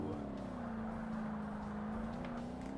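Engine of a car in the video game Forza Motorsport, a steady droning hum at constant pitch, moderately faint and alone.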